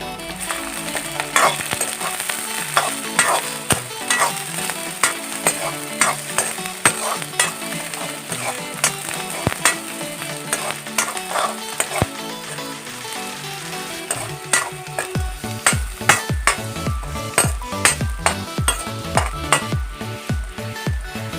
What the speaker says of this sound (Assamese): এতিয়া এইখিনি ৰঙচুৱা হোৱালৈকে ভাজি থাকিম।